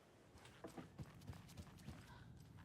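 Footsteps in a horror video game, a series of evenly spaced hard clopping steps that sound hoof-like, quiet and moderately close, with no talking.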